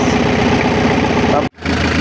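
A diesel truck's Isuzu 4JG2 engine idles roughly with a steady, slightly uneven low chug, misfiring and briefly cutting out near the end before picking back up.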